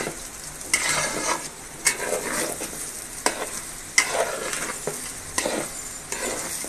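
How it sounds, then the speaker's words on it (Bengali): Water poured onto fried rice in a pan for pulao, with repeated bursts of hissing sizzle and spoon-stirring scrapes, about six surges in a loose rhythm, close and fairly loud with no talking. "এই পর্যায়ে আমি পানি দিয়ে দিব"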